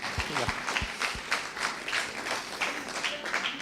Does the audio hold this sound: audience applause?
yes